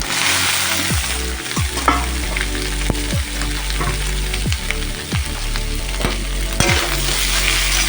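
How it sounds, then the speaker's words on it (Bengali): Grated carrots and beetroot fry in hot oil with spices in a wok-style pan, sizzling loudly and steadily. A spatula scrapes and stirs with repeated knocks roughly every second throughout. "এটা ভালো করে মশলার সাথে কষিয়ে নিয়ে তারপর এর মধ্যে আলুটা দেবো"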